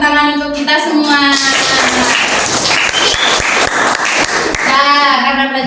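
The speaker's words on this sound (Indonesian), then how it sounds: "Kita beri tepuk tangan untuk kita semua." A classroom of students claps together in a burst of applause lasting several seconds, loud and close, with voices calling out before and after.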